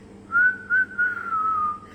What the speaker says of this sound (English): The shepherd turned and whistled.